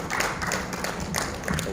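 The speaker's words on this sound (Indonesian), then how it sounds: "Tepuk tangan untuk kita semua." Audience applause in a hall at a 2023 regional education awards ceremony, a short burst of dense clapping at moderate distance, with some voices mixed in.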